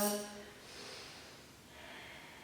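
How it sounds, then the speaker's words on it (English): Slow breaths drawn in and let out during a dance posture exercise, soft and close, with a short nasal sniff at the start. "Inhale, exhale."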